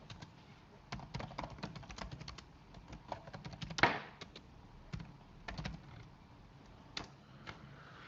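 Marker or chalk tapping and scratching on a classroom board during a history lesson, a scattered series of close, sharp ticks and taps with one louder knock midway.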